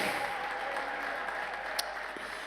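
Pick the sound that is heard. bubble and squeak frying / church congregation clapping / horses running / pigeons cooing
church congregation clapping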